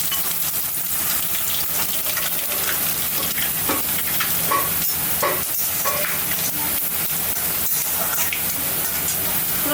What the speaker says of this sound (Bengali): তেলটা গরম হয়ে গেছে, এর মধ্যে শুকনো লঙ্কা, তেজপাতা, রাঁধুনি আর পাঁচফোড়ন এটা দিয়ে দিলাম।